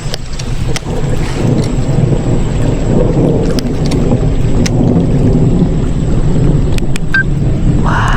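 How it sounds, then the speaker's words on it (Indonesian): Heavy rain falls on the Cipanas reservoir during a fishing trip, with a loud, steady hiss, wind buffeting the microphone and occasional thunder rumbling through. "Hujan guys."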